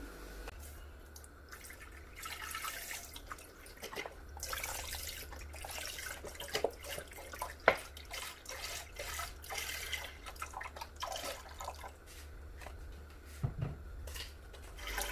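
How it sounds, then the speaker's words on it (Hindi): Milk pours into a pot of rice and water for rice kheer, a continuous splashing trickle broken by occasional metallic clinks, close and fairly quiet, with no talking. "और अब मैं इसमें मिल्क ऐड कर रही हूँ"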